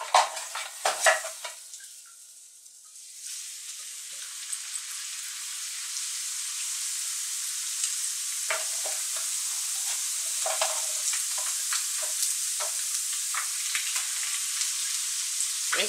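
Plantain chips fry in very hot oil in a pan with a loud, continuous, close sizzle, broken by occasional clinks of utensils against the pan.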